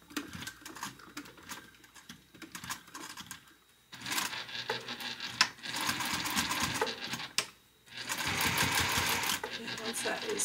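A sewing machine stitches ribbon onto an 1871-style Victorian stout corset, running in several loud bursts of rapid, dense stitching separated by brief pauses, up close.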